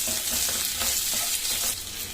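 Finely chopped tomatoes sizzling and frying in a pan with curry leaves, a steady crackling hiss with occasional stirring scrapes, close and continuous.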